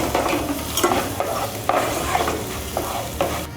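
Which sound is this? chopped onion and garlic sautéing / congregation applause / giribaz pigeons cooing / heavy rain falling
chopped onion and garlic sautéing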